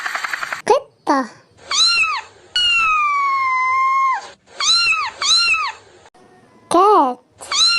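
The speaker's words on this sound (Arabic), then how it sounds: "قطة." A domestic cat meows several times: short rising-falling cries, one long drawn-out meow, then more quick meows, loud and close, with a voice speaking briefly between them.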